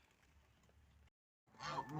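Geese honk at evening feeding time on a Ukrainian village farmstead. Faint yard noise gives way to a short pause, then a brief burst of nearby honking calls.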